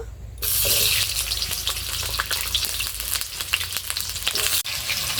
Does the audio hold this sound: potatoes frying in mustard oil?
yes